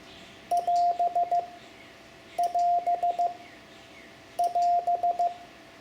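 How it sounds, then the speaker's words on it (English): The Morse code stand-by signal, dit da dit dit dit, is keyed three times as a steady beeping tone, each group a crisp run of short and long beeps over faint radio hiss. "Dit da, dit dit dit is sent to tell the other station to stand by for a minute."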